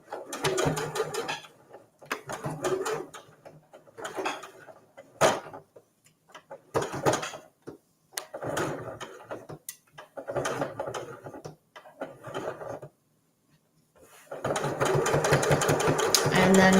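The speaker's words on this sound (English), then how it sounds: "I'm going to backstitch and cut my thread" A sewing machine stitches a microwavable mug cozy in several short bursts separated by pauses, each run a close, rapid mechanical whirr, ending in a longer continuous stretch.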